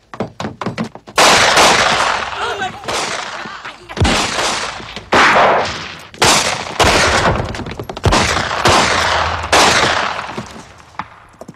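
Gunfire in a 1968 German western, a loud close volley of repeated shots and booming reports, several overlapping bursts with echoing tails that fill the whole stretch.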